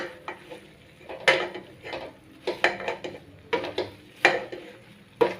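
Jute leaf molokhia with beef is stirred in a pot, producing repeated clanking and scraping of a spoon against metal in an irregular rhythm, close and clear with no talking.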